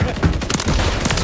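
A grenade explosion in Call of Duty: Modern Warfare 3 makes a loud, harsh, brief burst of blast and crackling gunfire, with a voice briefly mixed in.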